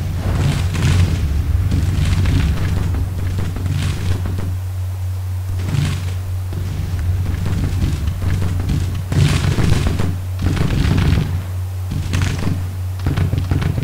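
Smoothbore cannons fire in Grand Tactician: Civil War: a run of heavy, booming reports at uneven intervals, some near and some distant, over a constant low hum throughout.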